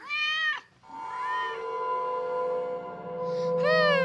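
A cat meows loudly and close by, with a sharp meow, then a drawn-out wavering yowl, then another rising meow, with no talk.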